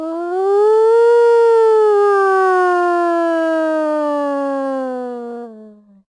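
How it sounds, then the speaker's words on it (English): A police car siren sounds as one long wailing tone that rises, then slowly falls over several seconds, loud and clear on its own before cutting off. "The policemen hopped into their police cars and helicopters and chased after Rufus"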